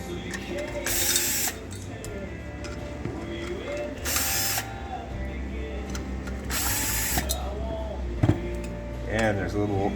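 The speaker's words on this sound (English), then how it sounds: "let's get the bolts off here" A ratchet loosens bolts during the teardown of a GT185, giving bursts of clicking and whirring between pauses, with a person talking in the background.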